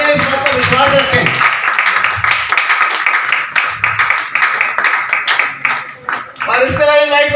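Audience applause at a training camp in Zirakpur, bursts of clapping mixed with a loud voice and music, the clapping rising and falling over several seconds.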